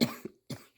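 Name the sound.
coughing after smoking cannabis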